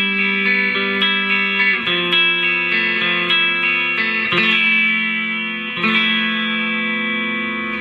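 An electric guitar plays through a mini amp with reverb, giving loud, sustained distorted chords that change every second or two and ring out with a roomy, airy tail.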